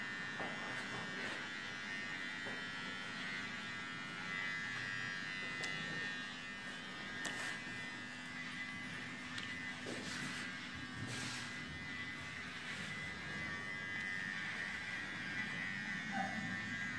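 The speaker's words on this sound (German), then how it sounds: "wird mit einer ganz easy Maschine gemacht. Das ist wie ein Damen-Intim-Rasierer." An electric clipper trims a dog at a grooming salon, giving a continuous faint buzzing hum with small shifts as it moves over the coat, and no talking.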